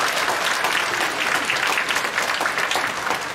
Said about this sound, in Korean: 우리 아이들을 위해서도 박수 한번 치겠습니다